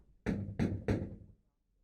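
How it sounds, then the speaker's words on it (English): Three firm knocks on a door at evening, evenly spaced and sharp, close and clear, followed by quiet. "Someone knocks at the door."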